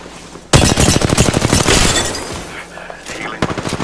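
Rapid gunfire in the video game Apex Legends bursts in loud and close, a dense rattling volley that thins out and then returns in sharp shots, with game voice callouts over it.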